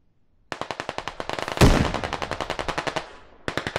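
Automatic gunfire in the video game Squad, a rapid, steady rhythm of close, loud shots running through most of the clip, with one heavier blast partway through and a short pause before a final burst.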